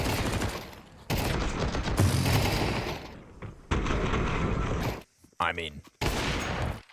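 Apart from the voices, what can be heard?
gunfire in Counter-Strike video game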